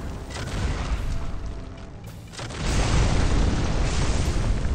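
Autocannon fire in the Xbox mech combat game MechAssault comes as dense, rumbling bursts of booming blasts, easing briefly and then swelling louder again, with no talk.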